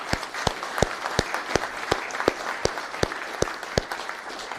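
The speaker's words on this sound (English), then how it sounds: "Perhaps if we just do one more round of applause for the full team." Audience clapping at an inaugural council meeting, a thin, fairly sparse round of applause with distinct individual claps at a steady rhythm, close and moderately loud throughout.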